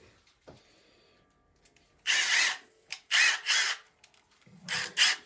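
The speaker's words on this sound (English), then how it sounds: "did use a drill for this part" A power drill whirs in three short bursts, each revving up and stopping, with quiet gaps and faint handling sounds between them.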